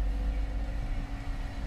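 Electric-converted BMW E65 7 Series driving, a low steady rumble and faint motor whine from inside the cabin, continuous and without speech.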